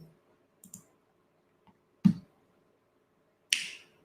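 A few sharp, isolated computer mouse clicks, close and crisp, spaced out over a few seconds in an otherwise quiet room.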